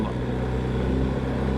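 A BMW R1250GS Adventure motorcycle downshifts off the throttle on a gravel road, its engine giving a steady, loud, low droning rumble with a slight pulsing texture and no clear break.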